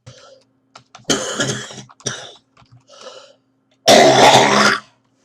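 A series of deliberate, harsh coughs close to the mic, with short throat-clearing bursts between and a long, loud forced cough near the end.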